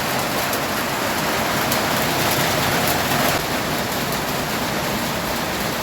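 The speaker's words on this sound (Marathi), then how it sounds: "पावसाचा आवाज येत असेल तुम्हाला." Heavy monsoon rain pouring down outside a home during a puja day, a dense, steady hiss that stays loud and unbroken throughout with no voices.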